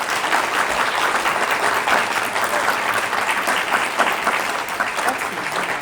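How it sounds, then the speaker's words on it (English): Audience at a Kentucky Ancestors town hall applauds, a dense, steady burst of clapping from many hands lasting several seconds, close and loud, with no voices over it. "Give her a round of applause."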